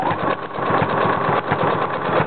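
A sewing machine stitches a blind hem, its motor running as a loud, steady mechanical drone with a fast, even pulse throughout and no voices over it.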